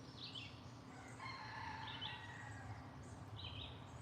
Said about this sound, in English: I hear the chickens.